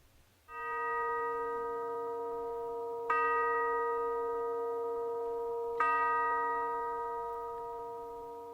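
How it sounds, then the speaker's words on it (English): Temple chimes ring to open a church service, three clear sustained tones struck a few seconds apart, each ringing out with a long, gradually fading resonance in a quiet room. "now it's time to begin our service with the temple chimes"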